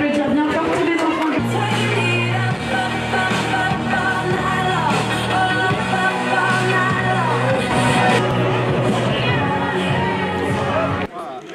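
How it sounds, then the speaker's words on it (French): An audience at a village festival in Saint-Étienne-de-Tinée applauds and cheers loudly for a group of children, with yells and whoops rising over a dense, continuous crowd roar. "On peut applaudir bien fort tous les enfants."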